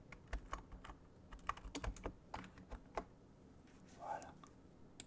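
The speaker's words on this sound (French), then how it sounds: "je vais faire un peu de tapping clavier." Soft keyboard typing for ASMR, with irregular close taps and clicks in short bursts and a faint whisper partway through.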